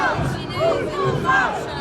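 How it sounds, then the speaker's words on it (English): Large crowd of tourists and locals gathered in Porto, a dense roar of many voices with rising chanted shouts, loud and continuous close around the listener. "here you can get a real idea how big this crowd is"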